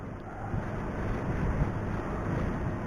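Wind buffeting a microphone aboard a sailboat out on open water, a continuous broadband rush with gusty fluctuations and a faint wash of water beneath, loud and close.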